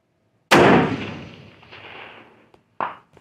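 A single loud, close rifle shot from a brand-new rifle being sighted in at a target range, with a long rolling echo fading over about two seconds, followed by a short sharp knock.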